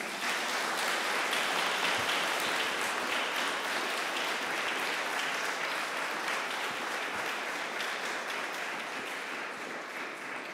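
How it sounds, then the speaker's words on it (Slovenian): A seated audience at a presentation claps in a sustained, even round of applause lasting about ten seconds, many hands blending into a steady wash that tapers slightly toward the end. "no pa si zaslužijo aplavz"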